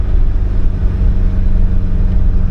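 A small classic Fiat's engine drones steadily with a deep, throaty exhaust rumble, close and loud throughout, on a mountain road with hairpins in the Pyrenees.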